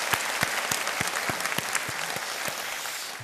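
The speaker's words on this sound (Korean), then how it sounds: "인격하신 분을 위하여 축하의 박수를 드립시다." Congregation applauding during a church worship service, a steady wash of many hands clapping at close range with a few sharper individual claps standing out, continuous for the whole stretch with no talk.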